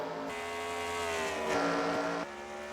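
Race cars running the white flag lap of a heat race at a short oval track, with a loud, continuous engine roar whose pitch shifts as several cars pass by.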